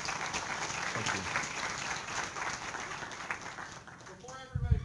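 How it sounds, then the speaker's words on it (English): Lecture hall audience applause at the end of an engineering class, fairly soft and steady clapping from a room of students, thinning out near the end as a voice and rustling come through. "let's give him a round of applause"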